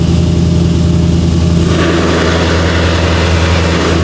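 A Ford Mustang engine runs with its exhaust valves shut, a loud, steady low rumble close by that holds evenly throughout with no revving, alone without talk.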